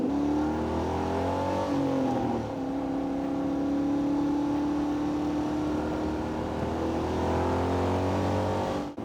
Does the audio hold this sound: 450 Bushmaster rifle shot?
no